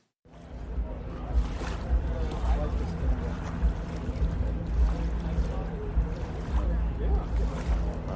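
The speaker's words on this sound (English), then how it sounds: "I recorded the boat going out on the course, spooling up its engine as it got on plane." A hydroplane-style racing boat (the Oberto) spools up its engine and gets on plane heading out onto the race course, a steady loud droning roar with water and wind noise throughout.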